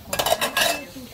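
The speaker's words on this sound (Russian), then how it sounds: "За мытьем посуды." Cutlery and dishes clink and clatter during washing-up at a camp, a few quick metallic knocks close by with no talk.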